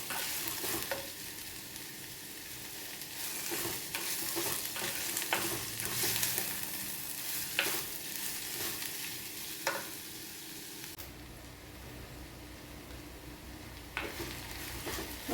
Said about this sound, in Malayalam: നന്നായിട്ട് വഴറ്റാം.